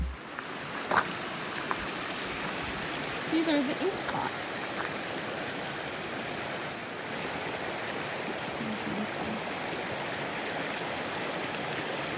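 Lower Falls in the Canadian Rockies gives a steady, broadband rush of falling water, loud and unbroken across the whole stretch, with a few faint voices and brief knocks in the background.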